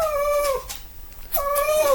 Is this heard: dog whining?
yes